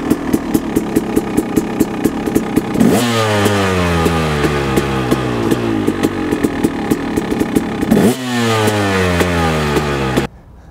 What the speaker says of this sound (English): Making sure your bike is in neutral, start the bike.